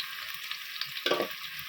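Chopped onion sautéing in hot oil in a pan for Kathiyawadi-style tempered chickpeas, a steady close sizzle with a brief louder burst of stirring partway through, no voices.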